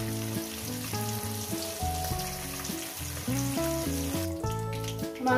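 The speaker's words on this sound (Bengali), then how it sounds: "এই তিনটে মাছ একেবারে ভেজে নিয়ে ঠিক আছে" Rohu fish pieces frying in hot oil, a steady soft sizzle heard beneath louder instrumental music that plays throughout.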